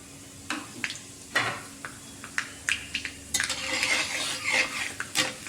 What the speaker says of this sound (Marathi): आणि ते व्यवस्थित असे परतून घ्यायचे आहे.